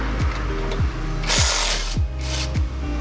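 A hand ratchet wrench on a 19mm nut clicks through repeated strokes as it loosens the CVT on a Honda Click V3 scooter. The strokes fall in a steady rhythm about every half second, close by, against a constant mechanical hum.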